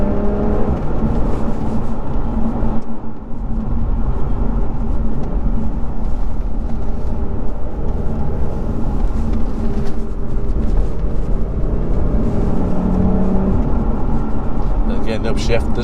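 Lotus Evora Sports Racer engine heard from inside the cabin during a gear downshift, a loud continuous droning engine note with revving rise and fall throughout, under a man's speech.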